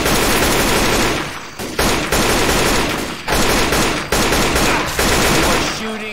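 Heavy, sustained gunfire in Left 4 Dead 2, loud bursts of automatic shooting broken by short pauses, several volleys in succession with no clear speech on top.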